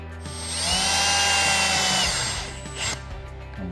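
A power drill whines up and holds a steady high pitch while driving screws into a wooden TV frame, close and loud, then winds down with a short second burst and a few clicks.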